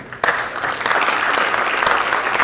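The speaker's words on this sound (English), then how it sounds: "Give a round of applause for all of you." A summit audience bursts into applause after a short pause, the clapping swelling quickly into a dense, loud and steady roar of many hands that carries through to the end.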